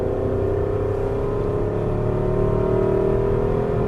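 An Aston Martin V8 Vantage engine drones steadily from inside the cabin on a Las Vegas racetrack after a downshift, a loud, even hum with no voices.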